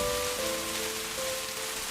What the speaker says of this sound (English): feeling the cool, crisp beads of rain as they run over your fingertips